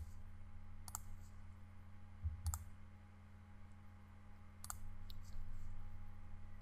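Quiet computer mouse clicks in Revit, three or four sharp isolated clicks spaced a second or two apart over a low steady hum, with no talk.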